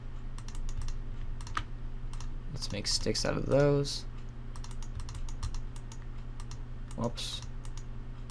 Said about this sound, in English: Sorry if you guys can hear that clicking, too. That's my mouse.